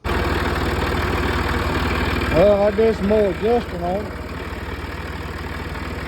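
A tractor engine runs at a steady, low idle-like drone throughout, close and continuous, while someone speaks briefly over it in the middle.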